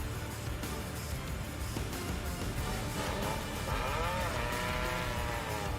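Drift car at a D1GP SEA and NDS GP round in Malaysia taking off and initiating a drift: a steady, loud engine roar with a rising whine partway through over constant trackside noise.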